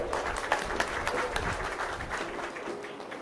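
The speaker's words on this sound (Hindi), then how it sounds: "एक बार जोरदार तालियों से अभिनंदन करें।" Brief crowd applause at a political rally in Radaur, Haryana, scattered claps swelling then fading over a few seconds, with faint voices in the background.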